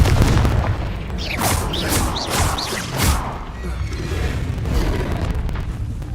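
Explosions from the Confringo blasting spell in Hogwarts Legacy, a run of rapid whooshing bursts and booming blasts, loud and close, over a rumbling game background.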